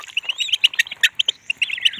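Five-month-old purple swamphen chicks call close by in a rapid string of shrill chirps and squawks, some overlapping, with no talking.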